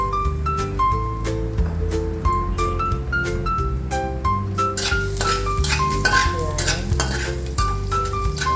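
Garlic fries in hot peanut oil, giving a loud, close, steady sizzle with stirring and occasional light clinks of a utensil against the pan. There is no speech.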